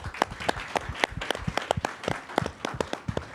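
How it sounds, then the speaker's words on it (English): Audience applause at a political event, a spread of sharp, distinct hand claps at close range from a modest crowd, steady and uneven through the short stretch with no talking. "the person who can take the biggest round of applause"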